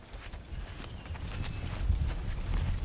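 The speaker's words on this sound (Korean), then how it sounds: "호주에서 아름다운 해변 중 하나로 꼽히는 레인보우 비치에서 승마 체험을 해보기로" Horse hooves clip-clopping on a horseback ride at Rainbow Beach in Australia, a steady muffled walking rhythm under wind and outdoor rumble, without voices.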